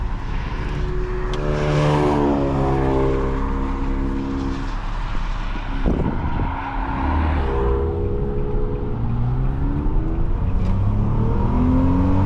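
A 2004 Nissan Maxima 3.5 SE heard from inside the cabin accelerates hard, its engine note climbing through the gears with rising harmonic sweeps, a brief dip at a shift, then pulling up again under steady road and wind roar.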